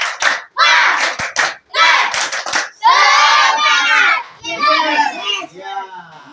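Schoolchildren in a classroom clap in short rhythmic bursts, loud and close, running into shouting and excited children's voices.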